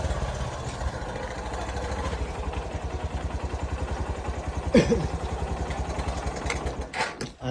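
A motorcycle engine idles steadily close by on a street, its low rhythmic chug running throughout with a brief clatter near the middle and a slight dip toward the end.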